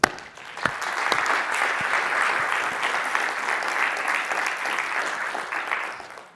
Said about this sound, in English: start with a huge round of applause for our sponsors and our team.